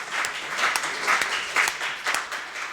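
An audience at a Hindi poetry recital (kavi sammelan) claps in a dense, steady burst of applause that carries on without a break for a few seconds.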